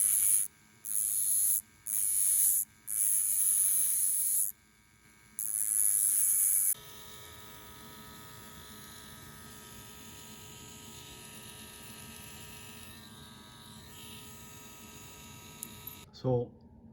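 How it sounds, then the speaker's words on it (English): A Dremel rotary tool grinding a burr off a Matchbox 39a Ford Zodiac Convertible toy car axle, several loud high-pitched whining bursts in close succession, then a lower steady hum and a brief clatter at the end. "So with the Dremel, I'm just going to take off the side of that burr on both sides here."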